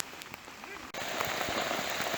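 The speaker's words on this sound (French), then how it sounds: "Là on est à 3 km de la plage, mais il pleut tellement, on va faire demi-tour." Heavy rain pours down steadily on a bike ride near a beach, a dense hiss that stays loud throughout and grows even thicker after a brief dip partway through.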